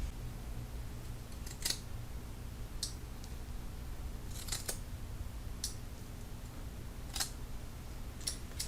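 Monk chunker groomer shears snip in a quiet room: about half a dozen crisp, sharp metallic cuts at irregular intervals, close and clear over a faint steady hum.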